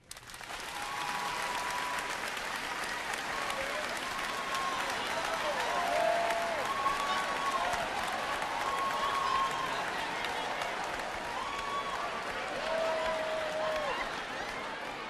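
A stand-up comedy crowd claps steadily throughout, dense and sustained applause filling the room with faint voices and calls threaded through it.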